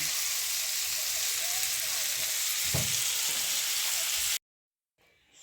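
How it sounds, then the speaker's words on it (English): Chicken breast stuffed with spinach, mushroom and cheese fries in a hot pan, giving a steady close hiss of oil with a soft clunk midway, then cutting off to near silence. "now it's fried halfway"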